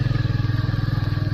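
A motorcycle ridden in rain on a road near Siliguri: a close, steady engine drone with a regular pulsing throb, heard alone.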